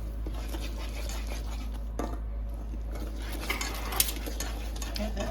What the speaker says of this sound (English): we're going to keep stirring that a little bit, make sure it's all mixed together